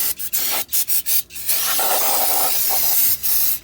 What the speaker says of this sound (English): we're gonna take our new rotor and we're gonna spray brake clean on it